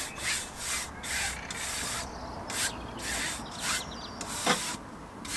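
Short bursts of brisk scrubbing from a small brush on a Renault Megane RS intercooler, repeated in quick strokes with brief pauses between, close up and fairly steady in loudness.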